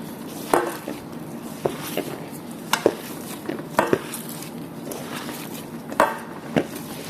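Minced meat being hand-mixed with salt, black pepper, garlic and spices, giving scattered soft wet slaps and thuds at an uneven pace, close and fairly quiet with no talk.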